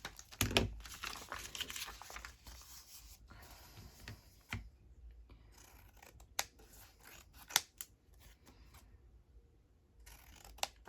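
Scissors trim a vintage postcard for a journal card. There are close, crisp snips and cuts, a burst near the start and scattered sharp clicks later, with paper rustling in between.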